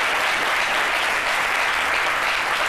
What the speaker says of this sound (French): Et de grands applaudissements pour vous,